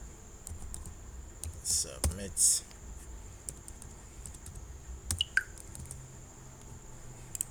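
Scattered clicks and short bursts of typing on a computer keyboard at a desk, with a few isolated key taps later, over a quiet room hum.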